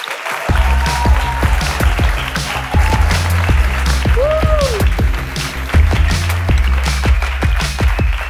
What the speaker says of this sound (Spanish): quiero que recibáis con un aplauso gigante a mi querido amigo Agoney.